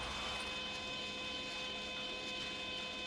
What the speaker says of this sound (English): if I grab a drone and let's say a mechanical sound of some sort of some workshop